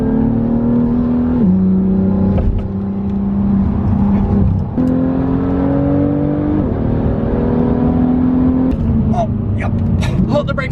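A BMW M2 is driven hard on a race track, its engine droning loudly and climbing in pitch through the gears, with sharp drops at each hard upshift.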